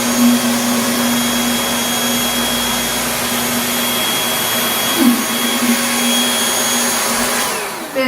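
A lightweight Bissell 2033M stick vacuum cleaner runs loudly and steadily with a whining motor hum, its pitch wavering briefly midway before it continues.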